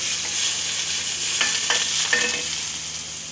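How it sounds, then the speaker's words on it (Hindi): Hot oil poured over layered rice for a degi biryani in a large pot, giving a steady sizzle with a few brief louder crackling bursts, close and without talk. "अब इस पे ये जो ऑयल हमने गरम किया वो डाल देंगे।"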